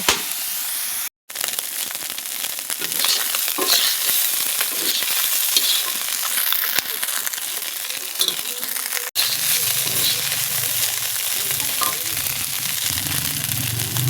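Small river fish sizzle and fry steadily in hot oil in a wok, with a continuous crackling hiss and occasional stirring scrapes as the fish are turned, dipping briefly near the start and again midway.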